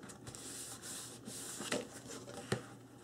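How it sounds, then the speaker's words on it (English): Glued cardboard album pieces being burnished along a fold line: a soft, close rubbing friction with a few brief sharper scrapes, quiet and steady with no talking. "Burnish that."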